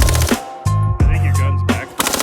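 Rapid gunfire from a rifle fitted with a Delta Team Tactical FRT-15L3 trigger: loud, close bursts with short gaps between them, broken by sharp pauses.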